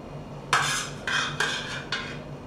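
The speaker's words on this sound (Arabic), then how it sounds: "هاكا الطماطم هاكا بدات تتهرس هي والثوم" Tomatoes and garlic are mashed in a bowl for Tunisian grilled salad, heard as four separate scraping, clinking strokes of a utensil against the bowl, close and fairly quiet, with no talk.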